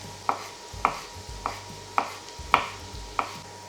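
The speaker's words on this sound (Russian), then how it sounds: "Пока жарится лук, мы порежем шампиньоны." Knife chopping through large champignon mushrooms on a cutting board, six crisp, evenly spaced chops about half a second apart, close and clear, with no talking.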